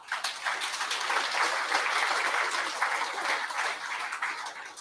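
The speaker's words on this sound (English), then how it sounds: "can you get a round of applause?" Steady round of applause from a crowd at a memorial service, broad dense clapping sustained for about five seconds before tapering slightly at the end.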